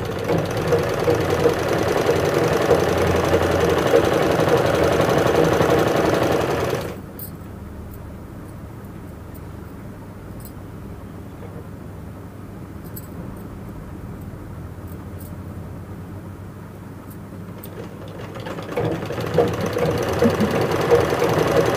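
An electric sewing machine stitches a double katori blouse, running loud and steady for several seconds, falling quiet for a long stretch, then starting up again near the end.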